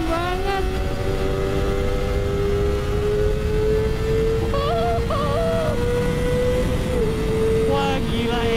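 A Kawasaki ZX25R motorcycle screams at high revs on a test ride, a loud, sustained, rising whine with brief gear-shift dips under heavy wind roar, heard from the rider's position.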